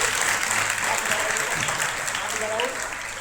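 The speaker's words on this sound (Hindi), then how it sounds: "बस 1 मिनट के लिए ताली बजाओ।" Schoolchildren at a school in Khurja clap together in a steady, dense burst of applause that fills the room, with some voices mixed in and a slight fade near the end.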